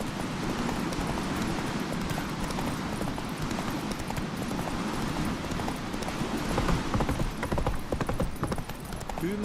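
Horse hooves clip-clop in a steady trotting rhythm in The Witcher 3 video game, with a busy, continuous patter of hoofbeats carrying on alone at moderate volume.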